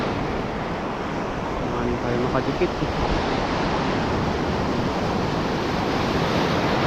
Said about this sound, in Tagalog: Mataas yung alon.